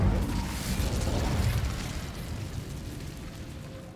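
Incendio fire spell blast in the Hogwarts Legacy video game, a loud booming burst that rolls and fades out over several seconds, heard alone without talk.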